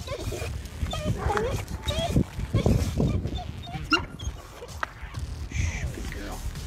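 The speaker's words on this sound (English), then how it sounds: "You're getting barked up by everybody today," Dogs, including an old St. Bernard, bark and whimper in short bursts, close by, mixed with people talking and ambient noise.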